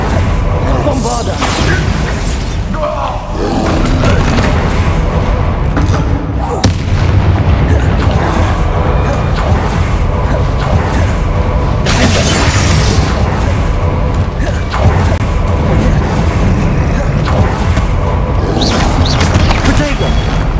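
Continuous loud booming blasts and rumbling explosions from the Bombarda spell in Hogwarts Legacy, dense and dramatic, layered with game music and effects throughout.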